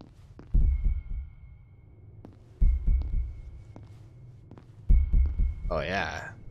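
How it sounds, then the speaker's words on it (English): A slow, deep heartbeat thumps in pairs about every two seconds inside the horror game Beyond Hanwell, over a low hum, with a brief voice at the end. "Hearing that heartbeat."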